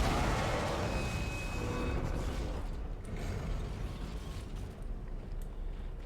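Enormous rotating metal machinery in the game Dead Space, a heavy grinding mechanical rumble with creaking, loud at first and then easing slightly, with no talk over it.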